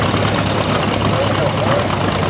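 A 1952 International Super 8 tractor engine idles at a plow day in a steady, low, continuous rumble, close and fairly loud, with someone talking over it.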